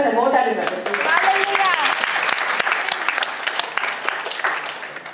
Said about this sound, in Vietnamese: Chúng ta có thể vỗ tay đi.